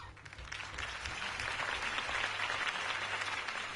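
Crowd applause in a Batman video game, a steady wash of clapping from a gathered audience after a campaign speech, holding level throughout over a low hum.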